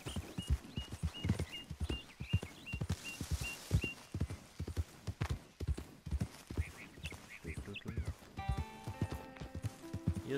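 Horse hooves clip-clop in a steady walking rhythm through Red Dead Redemption 2 game audio, mid-distance and fairly loud, joined by a brief whinny and scattered game sounds toward the end.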